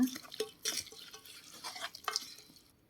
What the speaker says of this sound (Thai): คลุกเคล้าให้เข้ากันค่ะ